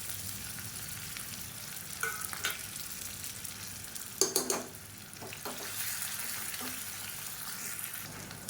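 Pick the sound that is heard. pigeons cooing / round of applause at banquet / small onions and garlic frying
small onions and garlic frying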